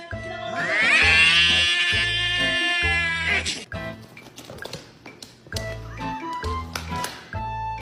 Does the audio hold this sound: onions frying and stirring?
no